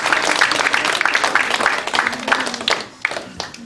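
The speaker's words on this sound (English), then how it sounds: "So we're going to have a round of applause for Miss Bax" A school audience claps at a Christmas science lecture, a dense patter of hands that holds steady for a few seconds before thinning into scattered claps near the end.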